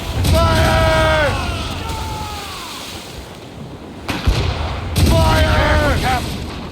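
Ship cannons in the Assassin's Creed Rogue video game fire in heavy booming blasts at sea, with one sharp report in the middle and a cluster near the end, amid crew voices and shouting.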